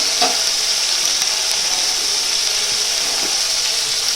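Ground cumin, coriander, Kashmiri chilli powder and salt fry in hot oil in a pan, giving a loud, steady, close hiss that holds evenly with no pauses and no talking throughout.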